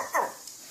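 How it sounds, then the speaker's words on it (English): A pet dog gives a single short, odd bark up close, a brief strained yelp rather than a full woof, with a voice talking around it. "What kind of bark is that?"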